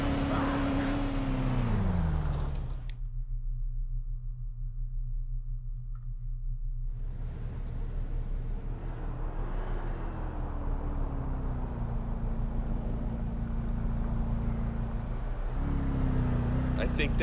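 A car driving in Grand Theft Auto IV, with a steady engine drone that rises and falls in pitch as it accelerates and shifts, loud and continuous with a voice talking over it.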